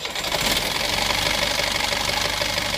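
A Perkins 4108 marine diesel engine turns over and settles into a steady, loud idle with an even mechanical chug and knock throughout.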